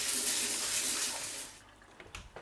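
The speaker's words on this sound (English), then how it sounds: "I'm just going to wash my hands." Tap water runs steadily into a kitchen sink while hands are washed during pork stuffing preparation, a broad continuous rush that cuts off after about a second and a half, followed by faint drips and small splashes.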